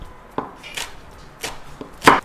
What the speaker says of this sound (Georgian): წვრილად ჭრით კინძს.